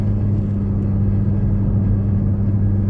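Square-body pickup coasting fast in neutral near 90 mph, a loud steady low rumble and road roar with no change in pitch throughout.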